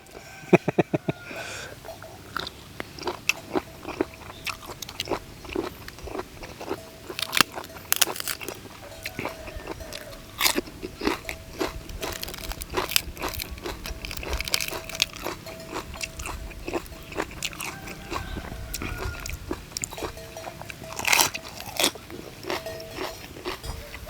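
Crunchy grilled squid tentacles are bitten and chewed close up, producing dense, irregular crackling crunches and wet mastication that continue for over twenty seconds, with occasional sniffs and no clear talk.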